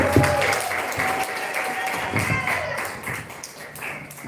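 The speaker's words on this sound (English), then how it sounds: "Let's give it one round of applause" An audience at a creators' meetup in Ghana claps in a steady, full round of applause that carries on throughout, moderately loud and close, with crowd noise mixed in.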